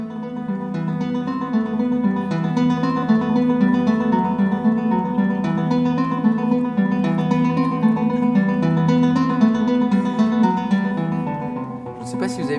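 A classical guitar plays a piece by Albéniz, a steady, rapidly repeated picked figure with shifting bass notes, loud and continuous throughout.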